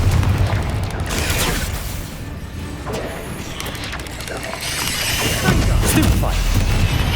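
Fiery Confringo spell blasts boom and crash in the Hogwarts Legacy video game, heavy rumbling explosions rolling through dense combat noise while a voice speaks over the action.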